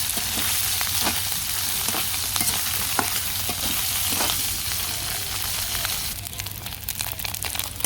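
Small fish fry in a pan with a dense, crackling sizzle, close by, punctuated by occasional scraping and clinks of a utensil; the frying thins out near the end.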